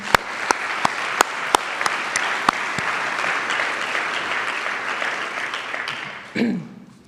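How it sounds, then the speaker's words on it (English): Steady crowd applause fills a high school senior recognition night, with sharp sporadic camera-flash-like clicks over it before the clapping trails off near the end. "Please give a round of applause for Sam Walker."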